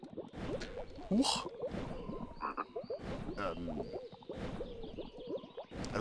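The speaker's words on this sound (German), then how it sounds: "Also da sind Frösche eingesperrt." Frogs croaking inside a locked enclosure in the adventure game The Whispered World: a dense chorus of repeated croaks and wet chirps at close range, with no talk.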